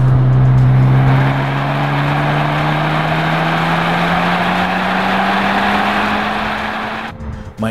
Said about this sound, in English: with a turbo motor, the sounds coming out of the exhaust are muted